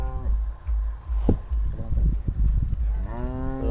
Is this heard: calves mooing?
yes